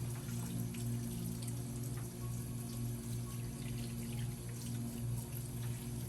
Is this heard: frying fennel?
no